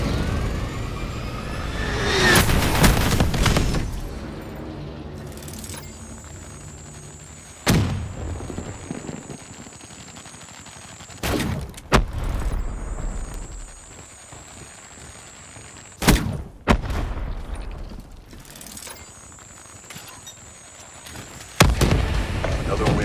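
Explosions from a Hellstorm missile and grenades in Black Ops 3 on PS4 go off as several sharp, loud bursts spread across the clip. Between them sit quieter game sounds and a repeating electronic beep.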